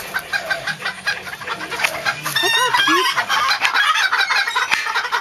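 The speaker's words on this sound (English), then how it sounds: "Shut up, chickens." Chickens cluck and squawk close by in a busy, irregular chorus, with a brief high call midway; a voice speaks quietly over them.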